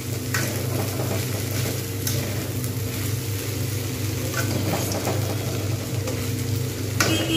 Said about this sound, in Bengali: পুরো ভালোভাবে ভেজে নিতে হবে।